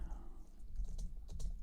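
Keys clacking on a computer keyboard while a Max/MSP comment box is filled in, a quick run of light taps over a low steady hum, close and fairly quiet.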